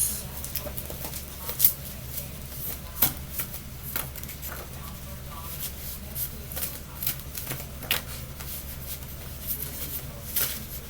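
A deck of cards is shuffled up close, with soft irregular riffling and tapping patter over a faint low hum.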